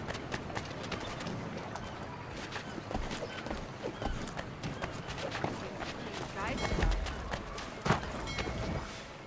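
Clip-clopping horse hooves from Assassin's Creed III Remastered move steadily through a busy, noisy city scene, with voices and clatter mixed in at moderate loudness throughout.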